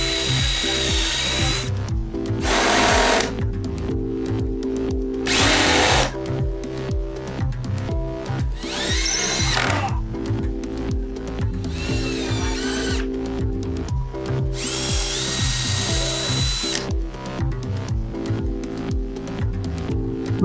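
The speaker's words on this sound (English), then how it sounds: "And now drill, countersink, and screw all of the same places on the obverse side." A power drill drives screws into the wood of an arcade cabinet in repeated bursts, whining up and cutting off with short pauses between, close and loud with no talking.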